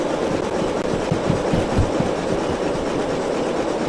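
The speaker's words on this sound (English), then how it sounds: "Oh, I can definitely hear the locomotive slowing down." Steam locomotive in the Derail Valley simulator game hauling an 800-ton train, a loud steady rumble and chug with rhythmic clickety-clack of the wagons, continuous and close.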